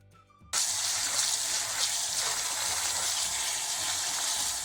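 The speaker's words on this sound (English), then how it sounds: "I'm going to rinse a few more times until it's water completely white." A tap opens and water gushes steadily into a bowl while rice grains are rinsed for plov, a loud continuous splashing rush after a brief quiet start.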